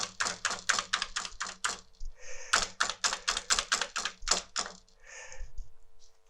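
Keys pressed on a German-layout Amiga 500 keyboard, a quick run of crisp clacks, a short pause, then another fast burst of clicks, close up with no talking.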